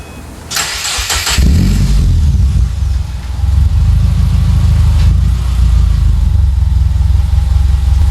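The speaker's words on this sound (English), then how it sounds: "we'll go ahead and give you a start" A Subaru Impreza with an EJ25 engine and Magnaflow exhaust cranks briefly and fires up, then settles into a loud, deep, throaty idle that rumbles steadily and close by.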